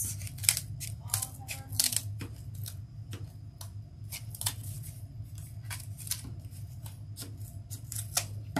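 Scissors cut craft material for a Christmas lantern: a rapid, close series of crisp snips and clicks, irregular but continuous throughout, over a faint low background hum.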